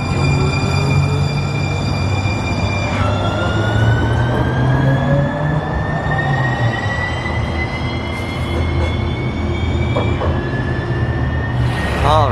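Phoenix light rail train running steadily at close range, a loud low rumble with rising and falling electric motor whine, brief wheel squeal near the end, no talking.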